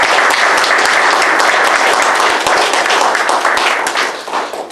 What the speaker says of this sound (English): I ask that you all join me now in a round of applause